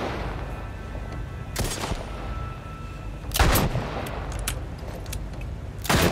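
Gunfire in The Last of Us video game, three sharp loud shots spaced a couple of seconds apart over low background rumble.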